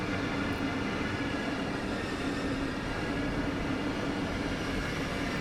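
A high-speed train in the Train Sim World 2 video game rushes past as a steady, dense rumbling roar with faint wheel noise, holding at an even level throughout without voices.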